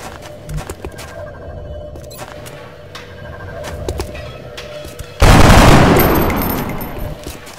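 Gunfire in the video game XCOM Enemy Within: small clicks and tones, then a sudden loud burst of automatic fire that sustains and slowly fades near the end.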